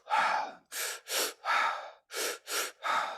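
Deep, forceful breaths during a breathing exercise, seven close, loud inhale-exhale bursts in a steady rhythm with brief pauses between, with no talk.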